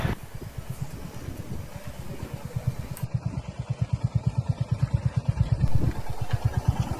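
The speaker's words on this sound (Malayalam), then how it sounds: "ഞങ്ങള് 4 ബൈക്കിലാണ് പോയിക്കൊണ്ടിരിക്കണേ. Hunter, Himalayan, Yamaha, Honda." Four motorcycles, a Hunter, a Himalayan, a Yamaha and a Honda, ride together on a road trip near Lonavala. A close, rhythmic engine thump pulses steadily and grows quicker and stronger midway, with no talking.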